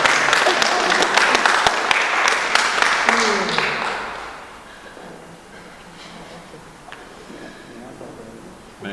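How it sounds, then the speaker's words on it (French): At a baptism in a church, the congregation claps for the newly baptised girl; dense applause fills the first four seconds, then fades into quieter room sound with a few scattered claps and faint murmuring. "applaudissons pour elle"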